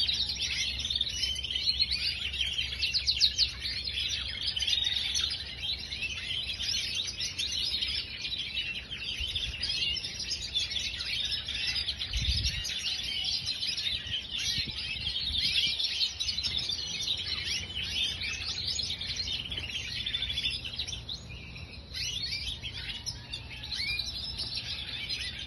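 Small birds chirping and calling steadily around a molting period, a dense continuous chorus of high tweets with faint insect buzz beneath, moderately near and without talk.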